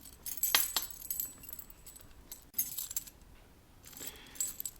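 Keys on a kubotan keyring jangle and clink in two short bursts, the first brighter and busier, the second softer, with a quiet pause between them.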